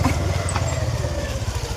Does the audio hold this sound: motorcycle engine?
yes